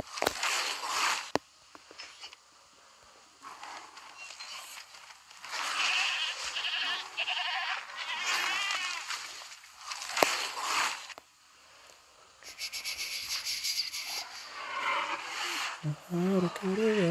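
Repeated goat bleats from the game Jurassic World Alive come in several loud bursts with gaps between them, mixed with other game sounds and a player talking over parts of it.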